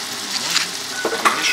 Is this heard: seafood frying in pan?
yes